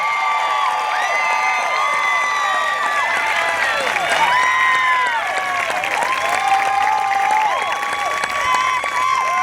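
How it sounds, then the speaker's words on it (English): A graduation audience applauds and cheers for seniors awarded university and college scholarships, with high whoops and shrill shouts riding over steady clapping for the whole stretch. "Y'all clap it up."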